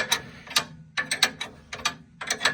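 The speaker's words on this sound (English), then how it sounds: "I'm just going to slacken off the spring compressors now" Loud, close ratcheting from spring compressors being slackened on the suspension of a Land Rover Defender Td5, clicking in quick bursts of several clicks separated by short pauses.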